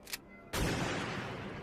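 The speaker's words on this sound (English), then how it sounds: "They go underground and then you just hear the gunshot because they couldn't show it" A single gunshot in the horror comedy Jack Frost 2: Revenge of the Mutant Killer Snowman: a brief click comes first, then a loud sharp blast that leaves a long, steady noisy wash with no voices.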